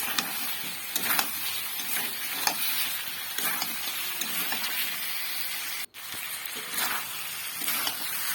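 Chicken sizzles and fries in a pan with ground black pepper, with steady bright hissing broken by scraping stirs and occasional clacks of the spoon throughout.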